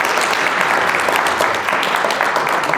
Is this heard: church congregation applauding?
yes